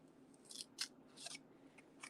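Several short, crisp snips of scissors trimming paper for a handmade card sketch, a handful of quiet cuts spaced irregularly against a faint, still room.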